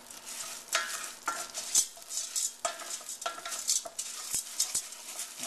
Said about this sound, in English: I'm going to start mixing it up to make sure that everything gets coated.